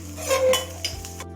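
Onions are stirred and fried in a metal pan for a prawn curry in coconut milk, with a spoon clinking and scraping against the pan over a low sizzle, close and clear, in a short burst.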